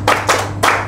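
A group claps three times in quick rhythmic unison, a chant-like clap pattern at a motivational training session in Gresik, with short gaps between the crisp, close bursts.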